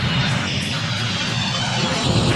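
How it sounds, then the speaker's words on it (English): Aircraft engines drone steadily at an airfield serving planes that fly people to Area 51, a loud, continuous rumbling roar throughout with no clear voices over it. "we're at an airfield, actually, and we're looking at the planes that bring people to Area 51"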